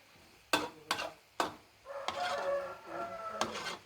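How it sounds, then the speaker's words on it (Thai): Cabbage is stir-fried with sun-dried pork in a pan: three sharp scraping clacks of a spatula, then a rising sizzle with further stirring scrapes, close and moderately loud, no talk. "ก็ผัดให้เขาอ่อนนิดนึง"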